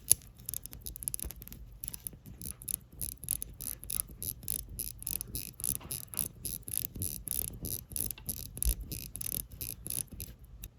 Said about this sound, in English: you can really feel it click as you wind the watch